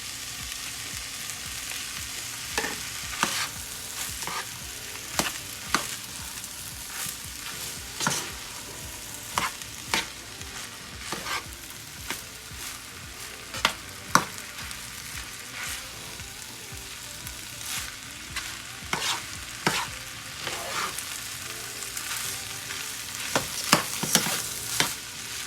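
Meat fries in a one-pot weeknight dish and is stirred repeatedly, with a continuous sizzle punctuated by frequent scraping and clanking utensil strokes against the pot, close by and without voices.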